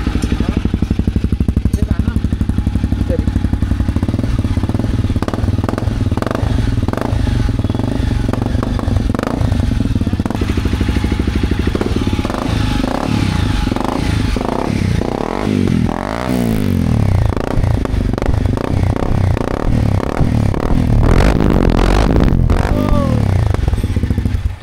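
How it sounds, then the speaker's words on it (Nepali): A motorcycle fitted with a newly installed aftermarket exhaust silencer idles in neutral with a close, loud, pulsing burble, then a few throttle blips and revs, while people talk over it. "मेरो एग्जस्ट चाहिँ चेन्ज भइसकेको छ म तपाईँहरूलाई साउन्ड सुनाउँछु"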